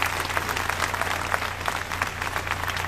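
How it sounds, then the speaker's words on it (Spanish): An audience applauds at a live show, dense steady clapping close and sustained throughout without a break. "denle un aplauso fuerte"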